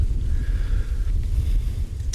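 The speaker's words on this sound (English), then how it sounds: "Whew, man, is it windy." Strong wind roars and buffets the microphone in a continuous low rumble, with a faint whine running underneath, during a gravel bicycle race.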